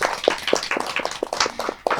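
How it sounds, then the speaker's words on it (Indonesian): Scattered clapping from an audience honouring a woman at a special anniversary event at an Islamic boarding school, a few dozen hand claps in an uneven, moderately close patter. "ayo tepuk tangan dulu buat Mbak Nima"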